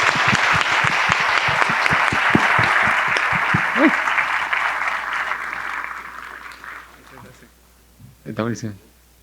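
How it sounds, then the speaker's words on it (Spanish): Audience at an international congress session on urban mobility and innovation applauds the panel speakers, a sustained burst of clapping that gradually thins and fades, with a voice speaking briefly near the end. "yo les pido un aplauso para todos los ponentes y también para ustedes"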